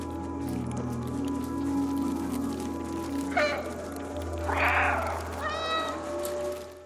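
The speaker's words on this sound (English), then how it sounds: "that first meow was" A cat in the game Stray lets out a couple of plaintive meows, the first short and rough, the second longer, fairly clear over a soft ambient game backdrop.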